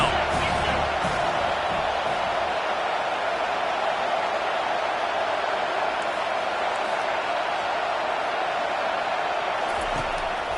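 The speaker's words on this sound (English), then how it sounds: "Decibels rising as the crowd gets behind this defense on third down" Stadium crowd noise in the college football video game NCAA 25/Madden, a steady, loud roar of a large crowd swelling on third down, continuous and dense throughout.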